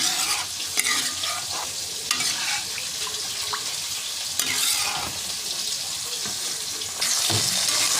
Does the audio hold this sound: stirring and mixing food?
yes